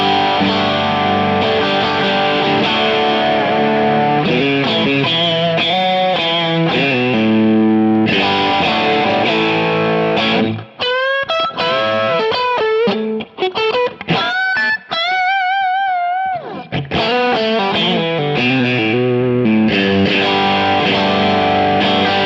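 Bogner Wessex guitar amplifier with its gain turned fully up, playing loud distorted electric guitar chords and riffs with sustained notes and bursts of single-note lines, continuous and without talk.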